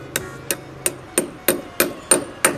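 Hammer striking a steel wall anchor into a wall while mounting a satellite dish: eight sharp, evenly spaced metallic blows about a third of a second apart, loud and close with no talking.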